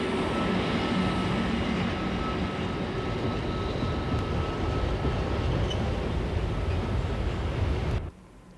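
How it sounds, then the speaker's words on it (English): The Benelux push-pull train, with Dutch railways coaches and a Belgian locomotive, rumbles past in a steady, loud broadband roar that cuts off abruptly near the end. "It's a joint Dutch-Belgian project known as the Benelux train."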